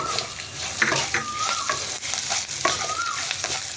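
Ingredients with green chilli and sugar frying in a pan, a close, steady sizzle with repeated scraping stirs and a couple of squeaky utensil strokes against the pan.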